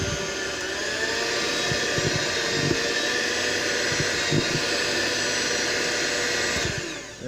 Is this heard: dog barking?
no